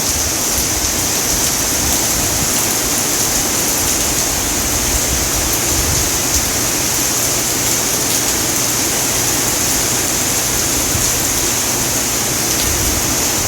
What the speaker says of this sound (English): This is rain in Belize.